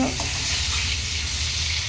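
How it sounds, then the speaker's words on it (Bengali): Potatoes fry in a pan with a steady, close hiss of bubbling oil that holds unbroken throughout. "আলু ভাজছে"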